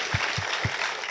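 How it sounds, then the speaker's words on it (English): Applause from a film Q&A audience, a short burst of clapping with a few distinct low thumps in a brief, even rhythm, lasting about a second. "let's clap for that"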